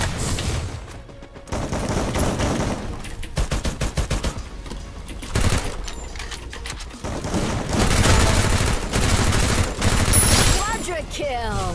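Gunfire in the battle-royale game Free Fire, with rapid automatic bursts and single shots crackling in repeated volleys, loud and close, with a voice talking between them.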